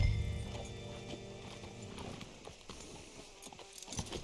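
Horse hooves clip-clop at a steady walking pace in Red Dead Redemption 2, set against a dense game soundscape of low hum and ambient noise, moderately close and fairly quiet throughout.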